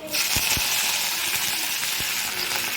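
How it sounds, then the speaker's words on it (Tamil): Steady hiss of curry leaves sizzling in hot oil after popped mustard seeds, with a few soft crackles and pops scattered through it, close and continuous. "இப்போது கடுகு நல்லா வெடிச்சிச்சு அதில் கருவேப்பிலை சேர்த்துக்கலாம்"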